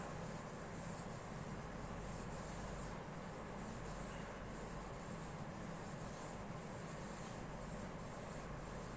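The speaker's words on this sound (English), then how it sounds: "I've been through with the 400 and the 600, and now I'm going to go to the 1000 grit" Close, steady rubbing of 1000 grit sandpaper across a canjo fretboard, a continuous even hiss with faint regular strokes, with no talking.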